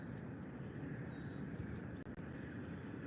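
An Air Europa airliner taxiing at Málaga airport, heard as a faint, steady distant engine drone with little change over a few seconds.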